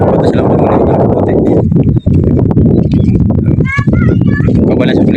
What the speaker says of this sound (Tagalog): Pwede ka masakayan ng kabayo